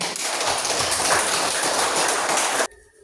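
A class of children claps their hands together in a dense, steady patter that fills the room loudly for over two seconds, then cuts off abruptly into near quiet.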